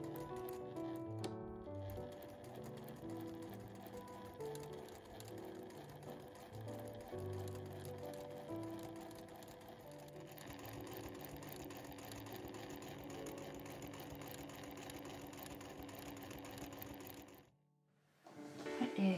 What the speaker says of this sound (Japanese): 端から7ミリのところを縫います